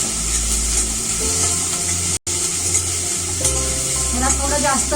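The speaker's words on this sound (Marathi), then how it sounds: "अर्धा कच्चा आपल्याला हा कांदा भाजून घ्यायचा आहे" Onion frying in oil in a pan, half-cooked, with a steady close sizzle as a spoon scrapes and stirs it through. The frying goes on continuously apart from one brief cut.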